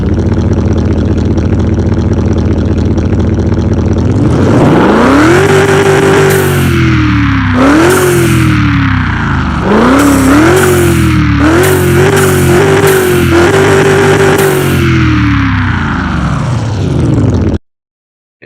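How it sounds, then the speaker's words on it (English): A twin-turbo car engine in Car Mechanic Simulator 2021 cranks and catches around five seconds in, then revs repeatedly in sharp bursts before settling, loud and close, with no talking. "This thing sounds amazing with the twin turbos, dude."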